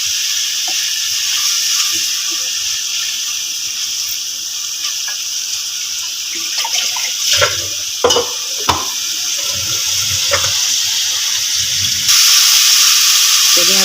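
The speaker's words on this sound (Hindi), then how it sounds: "चलिए आप थोड़ा सा पानी शामिल करेंगे" Water goes into a cooking pot of keema with potatoes and green beans, a steady sizzle and hiss with small stirring knocks, swelling into a brighter, louder hiss near the end.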